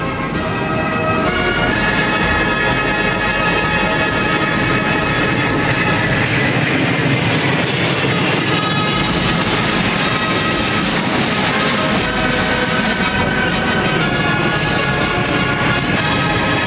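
Military aircraft passing over a parade at Tiananmen Square, a loud sustained roaring rumble that swells and holds across the whole stretch.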